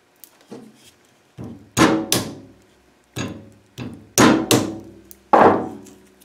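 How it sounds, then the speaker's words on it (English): Hammer blows cracking black walnut shells, seven or eight sharp thwacks in irregular pairs and singles, close and loud with quiet gaps between strikes. "I found the best way to get the nuts out is to use a hammer."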